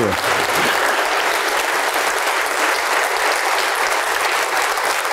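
A church congregation in a televised service applauds loudly and continuously, a dense, unbroken wash of clapping that holds steady throughout.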